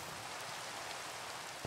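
Loud, continuous rain in Minecraft, a dense, even hiss of falling water with no breaks and no voices.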